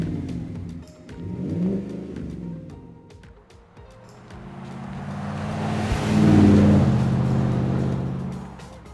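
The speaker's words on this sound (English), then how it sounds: "we're going to be checking out MBRP's exhaust offering for the 2021 newer Chevrolet Suburban" A 2021 Chevrolet Suburban fitted with an MBRP 3-inch cat-back street-profile exhaust revs up, dips, then swells into a loud, deep rumbling climb before easing off slightly, heard alone and close.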